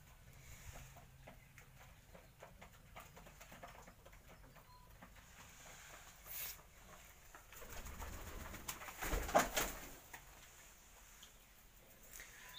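Pigeons at a pigeon-raising loft coo softly and repeatedly, with low throaty calls and occasional wing flutters and pattering, fairly faint and close, growing louder toward the end.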